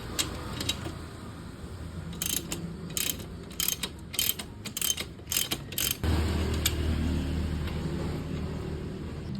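A socket wrench ratchets a 19mm nut loose on a motorcycle's RCB swing arm on a Yamaha Sniper 155. Close, rapid bursts of clicking come in quick groups, then a low steady rumble follows.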